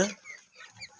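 Fourteen-day-old broiler chickens on a poultry farm cluck and peep faintly in a short burst, with a brief louder sound at the very start.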